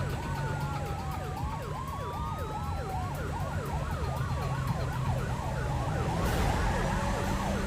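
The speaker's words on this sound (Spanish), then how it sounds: "detrás del vehículo del señor Hamilton, activaron sus luces y sirenas." Police patrol car sirens wail continuously during a vehicle pursuit, a rising and falling two-tone siren layered with a steady electronic tone, loud and close over road and engine rumble, with no talking.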